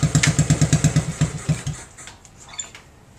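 A 1968 Honda Mini Trail dirt bike engine turning over after sitting long, rapid rhythmic chugging pulses close by that sputter and die out without catching.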